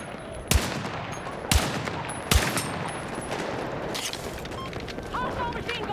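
Enemy machine gun fire in Battlefield RedSec, three heavy booming shots about a second apart, then a rumbling battlefield backdrop with faint distant activity.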